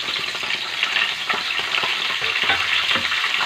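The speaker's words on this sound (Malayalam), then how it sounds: "എണ്ണ ചൂടായി വന്നിട്ടുണ്ട് അതിനകത്തേക്ക് നമുക്ക് കടുകിടാം" Mustard seeds fry in hot oil with a loud, continuous crackling sizzle and small pops throughout, heard up close and with no talking.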